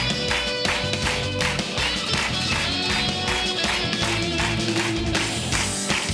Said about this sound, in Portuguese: Eu quero ouvir as palmas